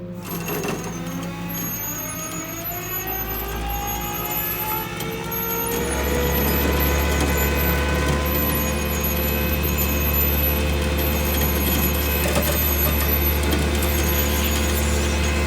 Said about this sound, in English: flip that back so it engages the clutch on your winch again, and down is in